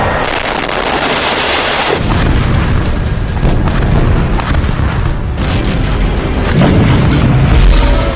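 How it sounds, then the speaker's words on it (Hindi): A loud, deep boom from a 2000-kilogram bomb erupts and rumbles on, followed by further heavy blasts and a rolling, dense roar of debris and echo. "दो 2000 किलो का बम धमाका,"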